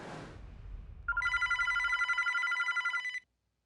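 A telephone bell rings in one sustained trilling burst of about two seconds, loud and close, after a brief rustle.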